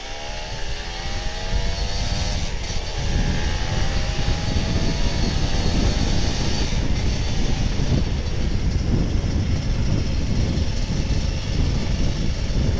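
A loud Kawasaki Ninja RR 150 two-stroke motorcycle engine revs and then holds a steady, raspy exhaust roar, close and continuous, with no one talking.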